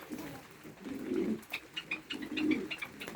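An Adana pigeon coos near a loft, two low rolling coo phrases with softer chirps and light rustling between them, close and fairly quiet.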